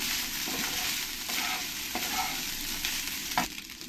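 Lemon rice being stirred in a hot pan, a steady close sizzle with several distinct scraping strokes of the spoon against the metal, no voices.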